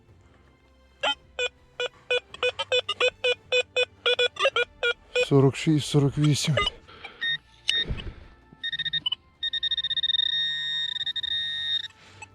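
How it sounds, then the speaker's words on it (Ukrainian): A handheld metal detector sweeping a field gives a run of short, evenly spaced beeps, then warbling and steady signal tones, while someone speaks briefly in between. "наконець ще якийсь сигнал, бо щось довго ходжу без сигналів"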